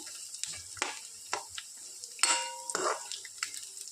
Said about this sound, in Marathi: कांदा छान लालसर होऊ द्यायचा।